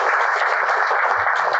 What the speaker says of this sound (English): Everybody needs to give this man a round of applause with the council people